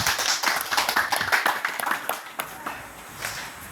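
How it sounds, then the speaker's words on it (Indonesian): A church congregation at a Christmas gathering bursts into lively, uneven clapping for God. The clapping is dense and close at first, then thins into scattered claps. "Beri tepukan untuk Tuhan"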